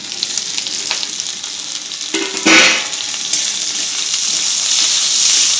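Tomatoes and capsicum dropped onto lightly fried onion in a hot pan burst into a loud, close sizzle with a sharp hiss surge partway through, then a steady frying crackle and stirring, no voices.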